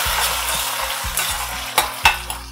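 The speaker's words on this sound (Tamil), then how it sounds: "இந்த தாளிப்பை நம்ம இதுல சேர்த்துடலாம்" Dried red chilli and neem flowers sizzle loudly in hot oil as tempering for mango pachadi, with steady frying hiss, a few stirring scrapes and sharp utensil clinks over soft background music.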